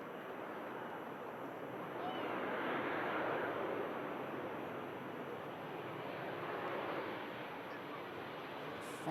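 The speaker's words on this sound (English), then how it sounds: "Another ETF Airways 73. This aircraft coming in from Budapest. Silky touchdown, nicely done." An ETF Airways Boeing 737 arriving from Budapest touches down with a broad engine roar that swells in the middle and then eases. It stays moderately distant, with a faint voice in the background.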